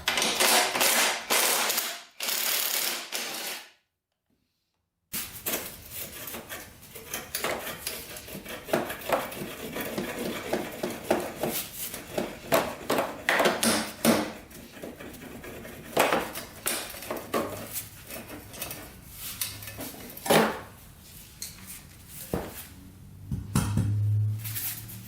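Metal tools clink and ratchet while the exhaust pipe comes off a Honda CRF250L dirt bike, with irregular close clanks and rattles running steadily after a brief silent gap, no talking.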